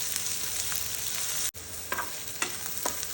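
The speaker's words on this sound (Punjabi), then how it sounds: "ਪਿਆਜ਼ ਨੂੰ ਭੁੰਨ ਲਿਆ ਹਲਕਾ ਗੁਲਾਬੀ" Onions sizzle steadily in a pan for a quick dahi tadka, with a constant hissing fry, a brief cut partway through and a few soft stirring scrapes; no one talks.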